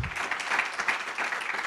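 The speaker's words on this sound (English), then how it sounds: "if we could just give her another round of applause" Brief burst of audience applause at a literary journal launch reading, a dense, steady patter of many hands clapping for under two seconds with no talk over it.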